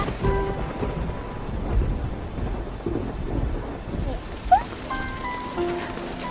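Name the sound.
rain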